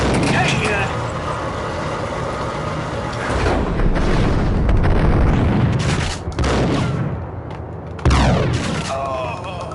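Grenade blasts and gunfire in the shooter game Max Payne, with loud, dense volleys and booming bursts that roll through the whole stretch, mixed with game noise.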